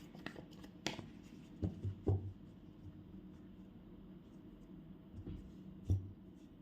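Tarot cards being shuffled by hand, giving a few soft papery riffles and taps over quiet room tone, close by with no talking.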